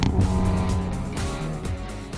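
Hyundai Veloster N in a track comparison with a Honda Civic Type R, its engine droning loud and steady with a brief crackle of exhaust pops near the start, no talking.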